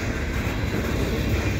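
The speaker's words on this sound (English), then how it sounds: "now we got a VIA train sneaking in" A VIA passenger train rolls past in a winter blizzard, a steady broadband rumble and hiss of wheels and cars holding constant and fairly loud throughout, with no voices.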